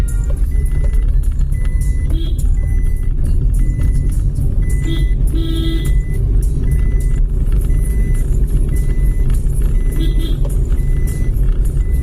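Steady road traffic rumble with a vehicle passing nearby, a few faint high beeps sounding now and then over the continuous engine noise.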